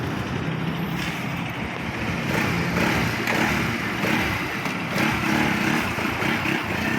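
A Yamaha RS200fi motorcycle engine, revived after a fire, runs steadily and loudly close by with a rough, continuous mechanical drone and no talking.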